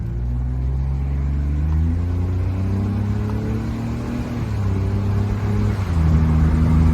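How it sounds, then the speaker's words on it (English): Interior drive in a 2002 BMW Z3 2.5i on the road, with a steady engine hum whose pitch climbs and drops through gear changes over road and wind noise, no talking. "I'm going to stay silent for a minute so you can actually hear the car instead of me."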